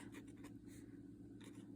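A glass dip pen with a G nib scratches across lined paper in a few short, faint strokes against a quiet room hum.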